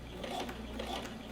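A sewing machine stitching a lapped zipper runs in a short steady mechanical whir with a faint rhythmic clatter, close and moderately quiet, without any voices.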